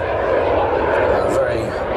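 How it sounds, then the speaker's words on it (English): A Fouga Magister classic jet with V-tail flies past at the ILA Berlin 2018 airshow, a steady loud engine roar, while an announcer speaks over it. "Beautiful classic jet aircraft, the Fouga Magister."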